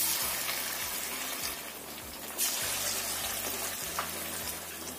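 Pieces of tofu fry in hot oil as a snack is being cooked. A faint, steady hiss and crackle runs throughout with soft bubbling and no talking.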